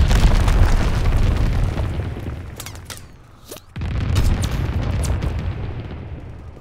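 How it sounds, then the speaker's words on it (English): Mortar round explosions in the Call of Duty WWII multiplayer game, a continuous loud rumbling barrage of booms with sharp bursts, briefly dipping quieter near the middle before the heavy blasts resume close and dense. "Sending mortar rounds."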